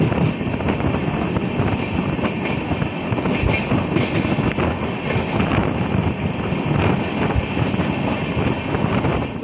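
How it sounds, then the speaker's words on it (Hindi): An Amrit Bharat Express train runs along the tracks with a loud, continuous rumbling roar and steady rattle of the carriages, heard from on board for the whole stretch. "हमारी ट्रेन अभी बढ़ रही है सीतामढ़ी वाली रूट पे"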